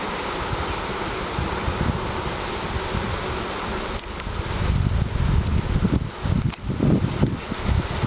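Honeybees just shaken off brood frames into a package hum as a dense, steady buzz that swells louder toward the end, with some rustling and wind noise mixed in.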